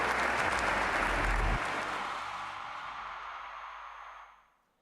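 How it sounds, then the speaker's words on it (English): Audience applause in a hall at the Bharatiya Chhatra Sansad student parliament, a dense steady burst of clapping that gradually thins and fades out over several seconds. "A big round of applause, my friends."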